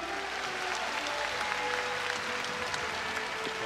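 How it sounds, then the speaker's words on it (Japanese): An arena crowd at a Tokyo Joshi Pro Wrestling show in Aichi Prefectural Gymnasium claps after a trophy presentation, a steady, moderately soft patter of many hands spread across the hall with a faint background hum and no speech. "今一度盛大な拍手をお送りください"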